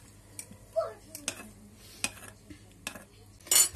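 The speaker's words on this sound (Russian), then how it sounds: "Перемешиваю." A spoon clinks and scrapes against a bowl in several sharp, irregular taps, stirring hot water and vinegar, close by and fairly quiet, with a faint voice-like sound early on.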